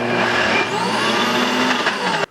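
An AICOOK professional blender whirs loudly while blending peanuts into peanut butter, a steady high-pitched motor whine up close that cuts off abruptly at the end.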